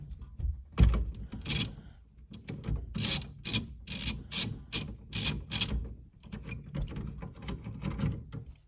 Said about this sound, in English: a 3/4 inch socket. And we're gonna take that nut off.